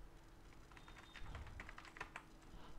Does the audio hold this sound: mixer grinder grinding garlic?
no